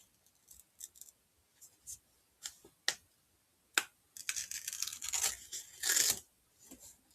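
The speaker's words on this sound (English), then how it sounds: "you start putting the scissors into the envelope" Scissors cutting open a mail envelope: scattered snips and paper crinkles, then a longer burst of tearing and crunching paper, close and fairly quiet with pauses between, no talk.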